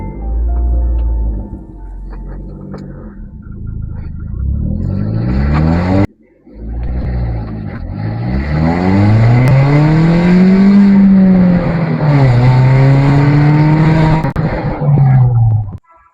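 A Volkswagen Polo 1.6 accelerating on the road, its engine loud and close, revving up through rising pitches with a brief break, then pulling hard and climbing again before easing off.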